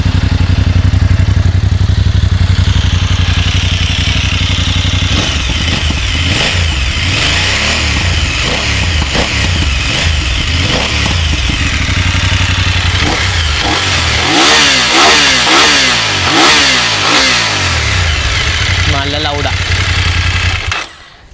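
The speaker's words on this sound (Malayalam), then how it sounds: "സോ ഇതിൻ്റെ എക്സോസ് നോട്ടും കൂടി ഞാൻ കേൾപ്പിച്ചു തരാം" BMW F900 GS motorcycle with a stock Akrapovic exhaust and 270-degree firing order, revved repeatedly nearby in loud, aggressive bursts over a steady idle for about twenty seconds before cutting off.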